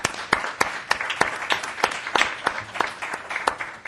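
Applause from the audience at a board of trustees meeting honoring a graduating criminal justice training class, steady sharp hand claps repeating through the whole stretch, fairly close and even in loudness, with no talking over it.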